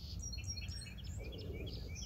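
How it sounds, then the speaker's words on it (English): Wild birds sing and chirp around a backyard seed feeder on a rainy morning, with many quick, bright calls overlapping at moderate distance over a low, steady background rumble. "The birds sound great though this morning."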